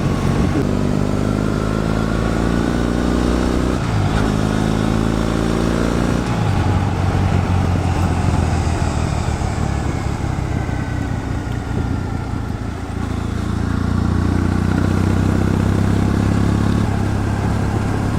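A Triumph Bonneville motorcycle on the road on a rainy-season holiday ride, its engine droning steadily with harmonic rises and drops through gear changes, loud and close throughout with wind rush and no talk.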